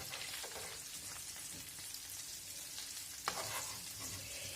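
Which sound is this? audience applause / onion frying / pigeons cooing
onion frying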